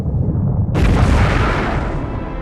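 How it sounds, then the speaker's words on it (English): A loud cinematic explosion standing for the fireball of the hot Big Bang: a low rumble swells into a sudden broadband blast that roars on and slowly fades. "This is the fireball of the hot Big Bang."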